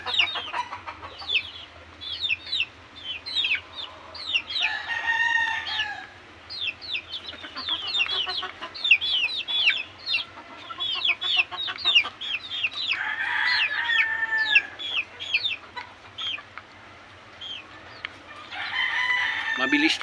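Chickens cluck and squawk steadily while pecking through their feed, with a rooster crowing at times, close and fairly clear over a low background hum.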